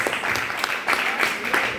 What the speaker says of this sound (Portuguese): Você quer dar um aplauso para o Senhor Jesus?